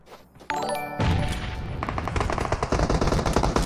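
Rapid bursts of automatic gunfire crackle loudly and continuously, overlapping single shots and blasts in a dense, chaotic firefight.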